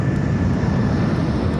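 An airliner flying through the busy airspace around Heathrow, a loud, steady engine roar that holds evenly throughout with no voices.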